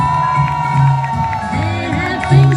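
A crowd cheers and whoops as a performer rouses them, the excited shouts rising and falling in bursts beneath a voice.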